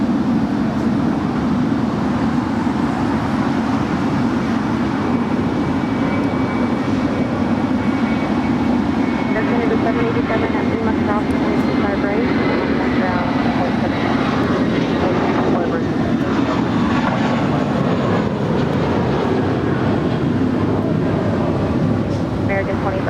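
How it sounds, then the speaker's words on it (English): An American Airlines Airbus A319, originally delivered to America West in 2000, departs runway 25 right at Los Angeles International Airport with a steady, loud jet engine roar that holds throughout. "Our next departure on 25 right is American Airlines Flight 2546 heading to New Mexico City in an A319"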